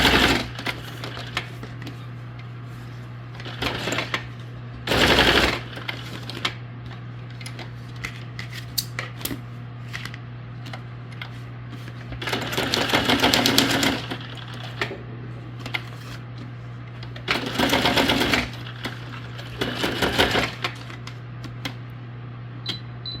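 Sewing machine stitching paper junk journal tags in quick whirring bursts, about four or five runs of a few seconds each separated by quiet pauses, over a steady low hum and small paper handling noises.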